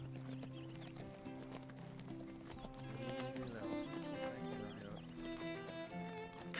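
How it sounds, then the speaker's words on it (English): Pack horses heading into the mountains walk along with a soft, steady clip-clop of hooves, partly buried under background music. "The Foster family brings in their pack horses for a trip into the mountains."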